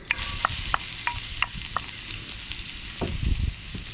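Garlic and shallots sizzling in olive oil in a pan while being stirred, with a steady frying hiss under a series of sharp utensil scrapes and taps against the pan, close and without talk.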